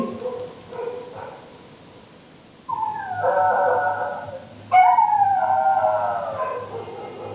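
Dogs howl in long wavering cries, two drawn-out howls rising after softer whimpers and yips, fairly close, with no talking, at the Lambi Dehar Mines colony.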